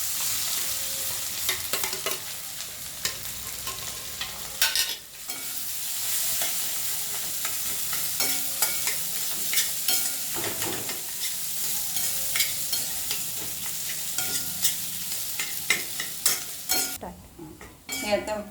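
Potatoes with turmeric, chili and spice masala are stir-fried in a pan for a samosa filling. A steady sizzle with scraping stirring strokes runs throughout at moderate level, with occasional sharper clinks of the spatula against the pan.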